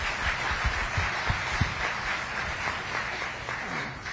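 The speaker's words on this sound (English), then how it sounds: "If we can give him a round of applause." An audience at a housing showcase event gives a round of applause, steady clapping from many hands that carries on evenly throughout.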